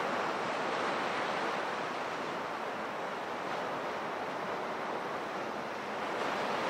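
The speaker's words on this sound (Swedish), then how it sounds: "Och vågorna rullar sakta in." Ocean waves roll in on the shore in a steady, broad wash of surf, continuous and fairly loud with no voices.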